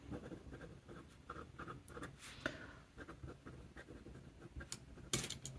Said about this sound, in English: Depending on the angle, I can write very fine lines